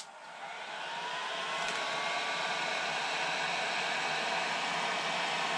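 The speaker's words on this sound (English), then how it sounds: "So then I just got to take my heat gun" A heat gun blows hot air in a steady, loud rushing hiss that ramps up over the first second and then holds constant, alone with no voices.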